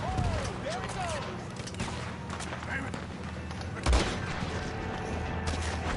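In Red Dead Redemption 2, a volley of gunfire crackles and a heavy dynamite blast thumps midway, with game voices talking throughout.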